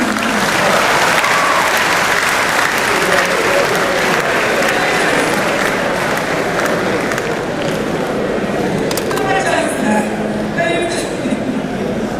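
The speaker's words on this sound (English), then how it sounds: "Clap for him." A large audience at a university congregation ceremony claps continuously, a dense sustained roar of applause filling the hall, with faint voices mixed in near the end.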